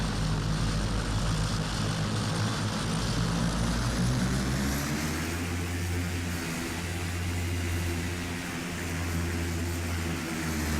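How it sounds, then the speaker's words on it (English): Steady propeller engine drone of a Fokker F50 in a flight simulator, loud and continuous, its pitch shifting partway through as the power changes. "I love that engine sound"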